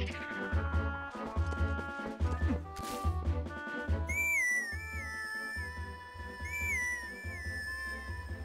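Whistle grass played in Zelda: Twilight Princess: a bright, reedy whistled melody of sliding notes enters halfway through and repeats, loud over steady game background music.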